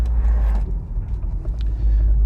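A Mk1 SEAT Leon Cupra R on the move that has been running a bit misfiery after its engine management light flashed, heard as a steady, loud, deep engine drone and rumble from inside the cabin.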